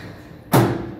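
A single heavy thud as the sliding doors of a 2007 Otis Gen2 lift in a Bristol shopping centre shut, with a brief rumbling resonance fading afterward; no voices.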